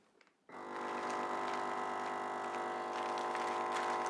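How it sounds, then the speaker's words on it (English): A chamber vacuum sealer runs a cycle on a bag of capicola charcuterie: after a brief quiet start, a steady, loud mechanical pump hum and whir sets in and continues evenly, close by and alone without talk. "We're going to go ahead and seal this."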